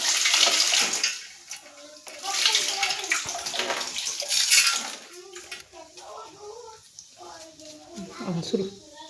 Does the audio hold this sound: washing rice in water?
yes